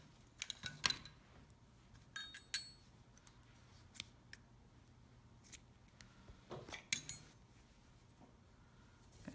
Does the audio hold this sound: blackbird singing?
no